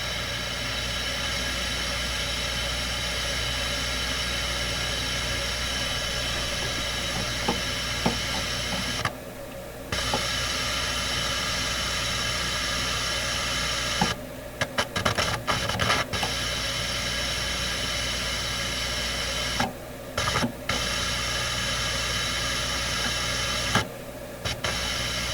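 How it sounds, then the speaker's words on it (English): Steady broadband hiss, constant and fairly loud, played through a Nordmende Traviata 59 tube radio's three-way speakers, with brief dropouts where it cuts off for a second or so before resuming. "play the hiss and then turn on and off the tweeters"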